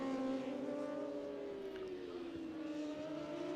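Superbikes in a DSBK Middle East Championship race braking and turning into a corner, a sustained engine drone with shifting harmonic tones, moderately distant and steady throughout.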